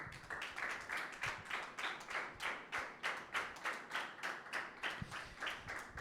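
A church congregation at a Sunday meeting claps for Jesus in a steady, rhythmic beat, many hands striking together in even pulses throughout, moderately distant and without talk.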